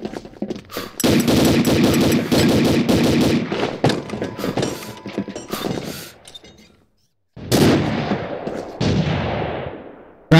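Rapid gunfire bursts in a competitive shooter video game, loud and dense for several seconds, a brief silent gap, then more shots trailing off; no talking over it.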